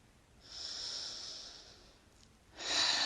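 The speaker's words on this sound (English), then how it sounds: "Take a nice deep breath." One person takes a slow, deep breath in and lets it out softly, airy and close, then a second, louder breath starts near the end.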